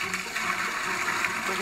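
Water drains from a filled sink after the plug is pulled, a steady rushing gurgle and hiss, close and continuous without pause.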